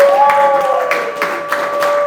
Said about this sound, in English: Let's give a round of applause for Zach Schubert